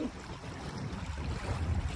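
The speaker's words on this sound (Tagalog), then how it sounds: "yung hampas ng alon po dito sa tabi" Gentle waves lap against the shore at Dolomite Beach on Manila Bay, making a soft, continuous wash of water that stays faint and even throughout, with no voices.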